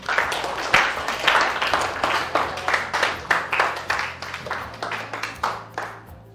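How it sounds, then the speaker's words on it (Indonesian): A class of schoolchildren clapping together in a classroom during an Indonesian-language lesson, a steady run of sharp, fairly close claps lasting several seconds at an even pace. "Tepuk tangan untuk kita semua."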